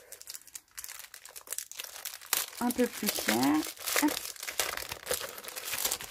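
Crinkling, tearing plastic packaging of a papercraft pack as it is opened, bursts of crackling rustle mixed with a person talking throughout.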